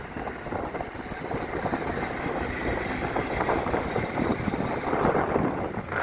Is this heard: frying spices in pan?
no